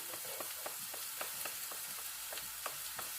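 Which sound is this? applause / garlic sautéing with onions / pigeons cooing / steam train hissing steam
garlic sautéing with onions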